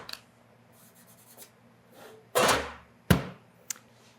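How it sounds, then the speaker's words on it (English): A plain sheet of 220 grit sandpaper rubs across aluminum in a metalworking shop. There are a few short, rough scraping strokes, close and fairly quiet, with pauses between them. "mostly for something like this, I just use a plain old sheet of 220 grit sandpaper"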